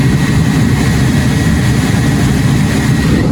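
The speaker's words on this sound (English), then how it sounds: "you can hear the fan, it changes speed" A loud, steady whooshing car air conditioning blower fan from a Vintage Air A/C conversion kit roars continuously up close, its broadband rush holding fairly constant throughout.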